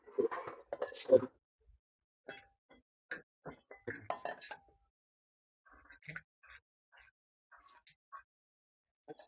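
Onion goes into a cooking pot amid scattered, sharp metallic clinks of pots and utensils, close and intermittent, with people talking between the sounds.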